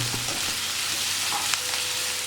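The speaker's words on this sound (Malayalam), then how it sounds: "സവാളയും പച്ചമുളകും ചേർത്ത് നല്ലവണ്ണം വഴറ്റി കൊടുക്കാം" Onion and green chilli sautéing in a pan for a Christmas beef stew, a continuous close sizzle and crackle with a few faint stirring taps, no talking.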